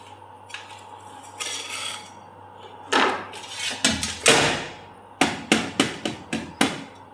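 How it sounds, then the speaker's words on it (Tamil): A tool scraping and tapping around the edges of a tin holding an eggless chocolate brownie cake, heard as scattered scrapes and then a quick series of sharp metallic knocks, close and clear over a low steady hum. "இப்போ வந்து ஓரங்களில் வந்து இப்படி குத்தி விட்டுங்க"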